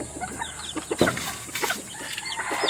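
Golden chickens cluck close by in a short run of irregular, overlapping calls, with one louder squawk, set against faint farmyard background noise.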